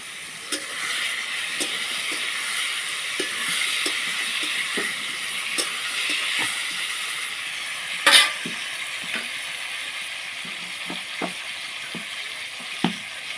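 Ridge gourd releasing water as it cooks in a pan, with pre-fried potatoes added, gives a steady soft sizzle and hiss throughout, broken by scattered clicks and a sharper clatter of stirring near the middle.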